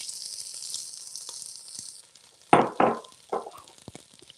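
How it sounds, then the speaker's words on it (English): Celery and other vegetables are dropped into hot oil in a soup pot, giving a loud sizzle burst at about 2.5 seconds and two more hissing bursts that fade in steps, after an earlier steady, quieter frying hiss. "I'm going to drop my vegetables in here so they can start cooking."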